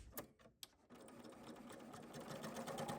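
A serger sewing machine threaded with yellow Orfil thread, stitching on woven potholder fabric: a couple of faint clicks, then a steady high-speed mechanical whir that holds continuously and grows slightly louder, close up.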